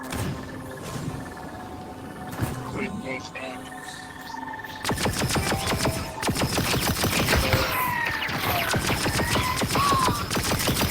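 Blaster gunfire in the Star Wars: Tales from the Galaxy's Edge video game, a dense rapid barrage of shots that starts partway through and continues to the end, over game sounds.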